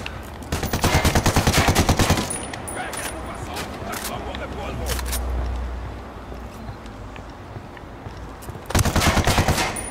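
Video game gunfire comes in rapid automatic bursts, one at the start and one at the end, with quieter in-game ambient noise and faint shots between them.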